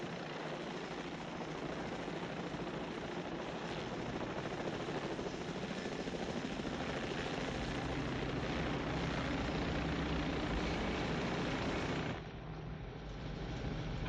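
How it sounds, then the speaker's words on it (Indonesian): A helicopter's steady rotor thrum and engine whine, continuous and fairly close, dropping slightly near the end. "Hei, ada helikopter mengikuti kita."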